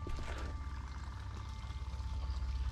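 Water runs steadily from a tap, a continuous close hiss and rush that holds an even level from start to finish without pauses.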